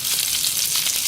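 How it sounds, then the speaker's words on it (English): Sausages frying in a pan at an outdoor campsite in the Blue Mountains of Jamaica, a continuous bright, crackling sizzle heard close up with no speech. "frying up my sausages"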